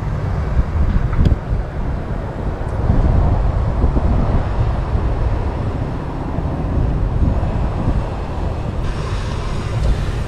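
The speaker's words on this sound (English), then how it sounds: "there's a lot of wind out here" Strong wind gusting outdoors beside the James River, a loud, continuous low roar and buffeting rumble across the microphone with no let-up and no voices.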